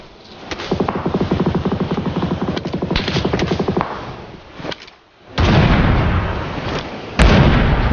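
Video game gunfire, a long rattling automatic burst of rapid shots followed by a pause and then heavier, louder blasts and booms up close, with no talking.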